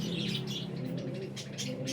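Pigeons in a loft making soft cooing calls mixed with brief chirps and light wing rustles, fairly faint against a continuous low hum.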